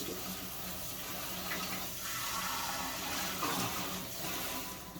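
Hot tap water runs steadily into a sink while hands are scrubbed under the stream, a continuous close splashing rush with no talk over it.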